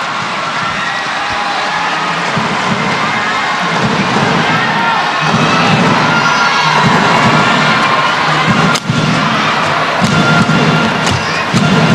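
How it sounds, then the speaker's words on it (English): A large arena crowd roars and cheers loudly and continuously at a SEA Games 2017 men's badminton match, with shrill shouts and thumping claps throughout and a brief dip near the end. "Great noise when Zulkarnain wins a point"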